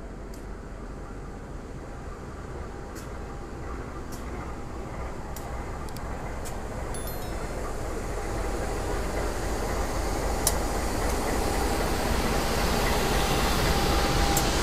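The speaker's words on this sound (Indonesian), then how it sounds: "Itu dia kereta api Tawang Alun, kereta full kelas ekonomi bersubsidi dari arah Ketapang ke arah Malang" The Tawang Alun, a fully subsidized economy-class train running from Ketapang toward Malang, rumbles as it passes. A steady, broad roar builds slowly over about fifteen seconds, with sharp clicks and squeals from the wheels scattered through it and no speech.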